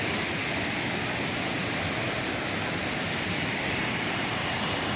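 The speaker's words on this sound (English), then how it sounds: "This is what Linville Falls looks like" Linville Falls waterfall roaring in a steady, dense rush of falling water, loud and unbroken throughout with no voices over it.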